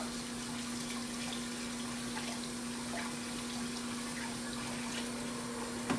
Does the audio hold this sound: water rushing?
yes